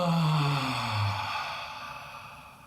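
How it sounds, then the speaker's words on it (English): A deep breath drawn in through the nose during a guided breathing exercise, close and fairly loud at first, then trailing off softly over a couple of seconds, with no talk. "So we're gonna start with a nice deep breath in through the nose."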